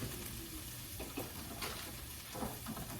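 Vegetables for tuna cakes sizzling and frying in a pan, a steady close hiss with light stirring scrapes and no talk.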